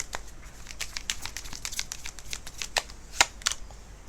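Tarot cards are shuffled in soft, papery riffles and flicks, close and quiet, with a couple of sharper snaps near the end as a card is drawn.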